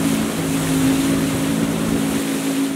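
A motorboat (lancha) runs on a river in El Tuparro National Park, Colombia: a loud, steady motor drone with a humming tone and a wash of wind and water throughout.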